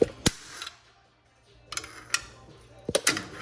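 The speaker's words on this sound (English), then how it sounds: "I'll take this big screwdriver, stick it in right here, pry forward and out" Big screwdriver prying the recuperator parts of an MG42 machine gun forward and out: a few sharp metallic clicks and scraping clanks in separate bursts, close and fairly quiet, with short pauses between.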